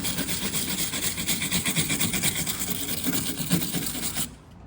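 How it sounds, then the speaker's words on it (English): A wire brush scrubs welded metal handrails on a boat, giving a close, continuous harsh rasping with a fast rhythmic texture that stops abruptly near the end. "A little bit of a wire brush here."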